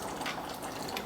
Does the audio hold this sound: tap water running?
yes